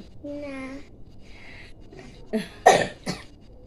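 A weak, unwell young girl in Gangtok coughs three or four times in a quick close burst, after a brief stretch of quiet voices.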